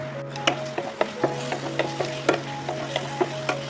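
Small pieces of egg bhujia fry in butter in a pan with a steady soft sizzle, while a spoon scrapes and clicks against the pan in a quick, irregular stirring rhythm.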